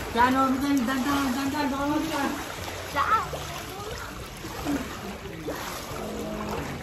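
Someone does a cannonball jump into water, making a loud close splash and continued sloshing, while voices shout and talk over it.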